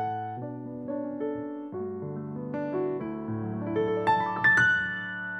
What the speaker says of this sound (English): I use what is called the Grand Rhapsody piano